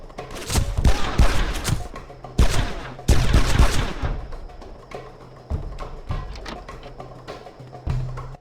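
Gunfire in the game Made Man, rapid loud bursts of shots in clusters with short pauses between, then sparser single cracks and thumps over a low droning background.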